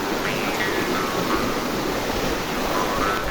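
Water rushes at Manyava waterfall in Ukraine as a loud, constant broadband roar that fills the whole clip, with faint crowd noise mixed in.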